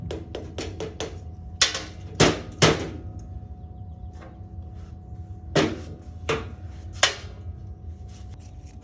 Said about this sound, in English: I'm gonna try a 7/16 socket with a rubber mallet.